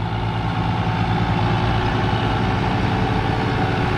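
A farm tractor engine idles steadily, a low, even rumble that holds constant and close with no change in speed.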